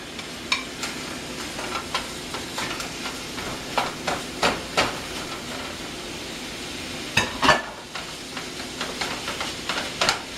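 Two and a half pounds of ground chuck browning in a pot for chili, with a steady close sizzle broken by repeated scraping and clacking stirs of a utensil against the pot.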